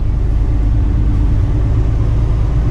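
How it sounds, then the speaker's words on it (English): Dump truck engine running while warming up at low RPM, a loud, steady, deep rumble that stays even and close throughout with no other sounds. "Engine is still warming up, so I'm trying to keep the RPMs below 1500"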